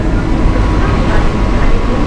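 An air-conditioned Mumbai local train moves with a dense, steady rumble and roar heard from aboard, while a voice talks over the noise.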